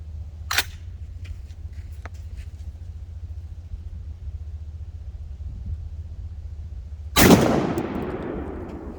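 A Winchester SX4 shotgun fires a single 10 gauge Federal Dry Lock T shot load outdoors, a sharp loud blast with a rumbling tail late in the clip, after a faint click and steady low background hum.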